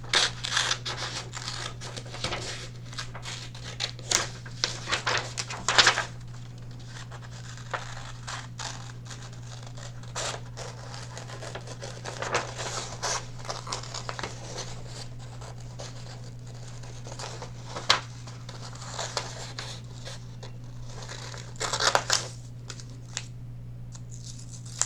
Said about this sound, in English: you're going to take your child-friendly scissors and we're going to cut the tongue out together